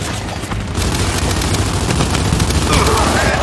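Dense, continuous gunfire and grenade blasts from a Gears 5 firefight on Insane difficulty, a steady loud barrage of shots and booms running throughout with a voice faintly in the mix.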